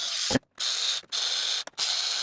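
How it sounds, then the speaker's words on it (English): Guitar tuning pegs cranked to slacken all the strings, a steady dense mechanical whirring in three long bursts separated by brief pauses, close and fairly loud with no voices. "I'm just gonna loosen them, all of them up"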